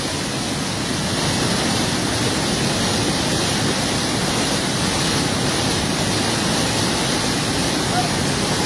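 Khowai river water rushes past an eroding riverbank in a dense, continuous roar, loud and close with no pauses, like a heavy torrent.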